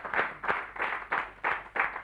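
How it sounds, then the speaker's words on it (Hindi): A studio audience at an educational quiz show claps loudly in rhythmic bursts, with about six surges of applause rising and falling across two seconds and no voices over them. "जरा जोर से ताली बजाइएगा।"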